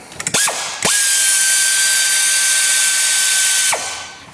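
Ratchet wrench spinning rapidly in one loud continuous burst of about three seconds, removing bolts from the EGR valve of a 2019 Lincoln Nautilus, with a few short clicks at the start.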